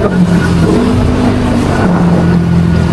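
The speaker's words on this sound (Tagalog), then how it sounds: "Ito rin pala yung ambience na city driving in the morning kapag walang traffic" Car driving through a city on a quiet morning with light traffic, heard as a steady engine hum and road rumble, with a faint rise and fall in pitch as it moves along.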